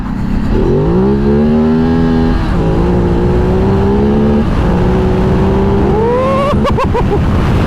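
A 2024 Ducati Desert X Rally motorcycle rides off-road through a puddle, its engine droning loud and close with steady harmonics that dip and rise as the throttle shifts, ending in a brief sputtering burst.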